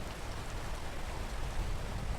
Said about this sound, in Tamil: மழை பெய்யுதுலையா?